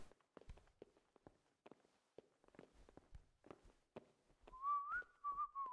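A character whistles a short wavering tune in the medieval video game Kingdom Come: Deliverance, preceded by soft footsteps and faint taps, quiet and close.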